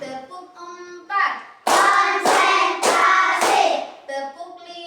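Hands clapping in a clapping song, four loud claps in an even beat, close and sharp, bracketed by sung voices before and after.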